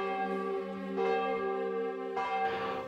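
A few church bell strokes ring out with long sustained hum between them, moderately loud, no voices.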